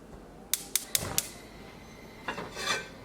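A gas stove burner being lit in a home kitchen: four quick, sharp igniter clicks in a row, then a soft, brief rush as the flame catches.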